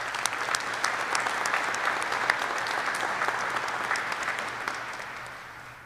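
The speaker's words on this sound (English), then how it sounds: "So another round of applause." Sustained applause from the audience at a US Air Force helicopter training graduation ceremony, steady and full for several seconds before slowly thinning toward the end, with no talk over it.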